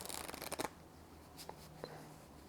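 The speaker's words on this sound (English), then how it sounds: "the spectator the freedom to shuffle these piles into one another, like so." Riffle shuffle of a deck of playing cards during a poker card trick, a quick burst of fluttering card slaps lasting about half a second and then stopping, followed by a couple of soft taps in quiet.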